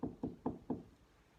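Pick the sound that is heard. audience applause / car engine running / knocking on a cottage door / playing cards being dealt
knocking on a cottage door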